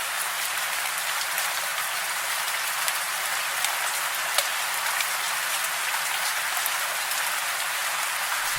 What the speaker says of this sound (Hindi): बारिश रुकने का नाम ही नहीं ले रही है।